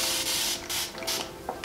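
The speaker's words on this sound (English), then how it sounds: "I'll just kind of quickly spray it in with warm water" Short bursts of fine mist hiss from a spray bottle of warm water onto hair, several quick close pumps with brief gaps between them.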